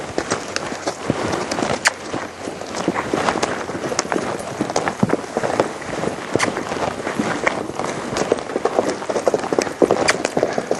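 A horse being asked to move forward, its hooves clip-clopping in a steady, close walking rhythm over a constant textured background, with no voices.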